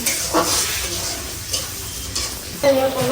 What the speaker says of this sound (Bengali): এই যে ছোট মাছের তরকারি হচ্ছে আজকে